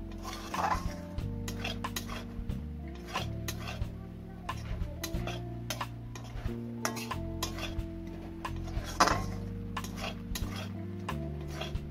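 Vermicelli halwa is stirred in a metal pan on the stove, with a spoon scraping and clinking against the pan in a steady, repeated rhythm over a faint sizzle and low background hum.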